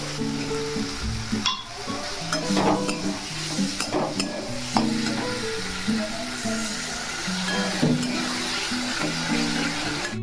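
Tomato fries with spice paste in a pan under continuous sizzling, while a spoon scrapes and stirs in irregular strokes close by, occasionally clinking; no speech.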